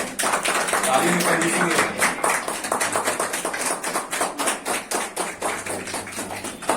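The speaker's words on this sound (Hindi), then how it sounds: "तालियों के साथ स्वागत करेंगे" Audience at a fifth anniversary celebration clapping to welcome three guests, a crowded burst of claps that settles into sharp, evenly spaced hand claps, with a voice speaking over the start.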